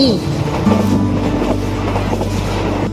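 An express train between Buriram and Surin rolls along the rails with a steady low rumble and faint rhythmic clatter, heard from inside a carriage at a continuous, moderate level.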